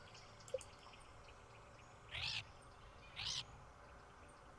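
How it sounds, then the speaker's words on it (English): Two short chirping bird calls from a character in the video game Stardew Valley, each about half a second long and a second apart, fairly clear over a quiet ambient game background. "he's making bird noises too"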